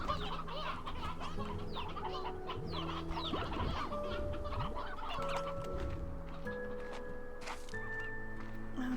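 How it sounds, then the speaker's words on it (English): Chickens in the video game Slime Rancher 2 cluck and squawk over and over in a busy, overlapping stream, with steady tonal game sounds humming underneath. "Okay, grab some chickens."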